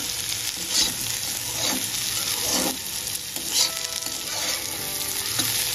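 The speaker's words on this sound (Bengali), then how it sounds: "দেখুন আমার সবজিটা প্রায় ভাজা হয়ে গিয়েছে।" Chopped vegetables frying in oil in a pan for homemade pasta, giving a steady close sizzle with periodic louder bursts as the mix is stirred and tossed, no voices.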